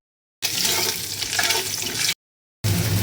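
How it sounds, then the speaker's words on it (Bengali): Onion, ginger and garlic paste hits hot oil left from frying eggs and potatoes, giving a loud, close sizzle in two bursts separated by a brief silence. "এই ডিম ভাজা আলু ভাজার তেলেতেই আমি দেবো।"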